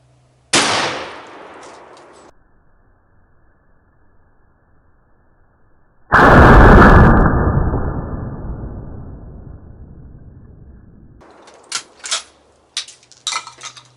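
A shotgun fires a mini birdshot shell at a target: one loud sharp blast near the start, then a second, louder report around six seconds with a long decaying roar, followed by faint clinks and handling noises.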